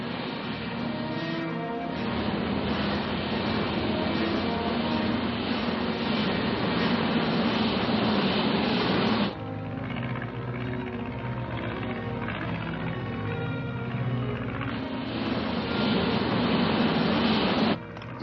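A loud, steady engine roar drones continuously, dipping briefly in the middle before swelling back up, like an aircraft rolling along the ground.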